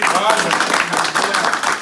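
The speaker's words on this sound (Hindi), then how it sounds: "एक बार सबके लिए और मैडम के लिए तालियां" Applause for everyone and a madam at a rural road-safety talk in a village, a dense patter of many hands clapping steadily throughout, with voices mixed in.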